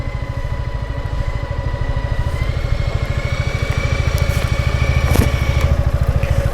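A 2023 Piaggio MP3 530 scooter engine runs at low speed while reversing, a steady, even, close pulsing throb with light mechanical clatter and no talk.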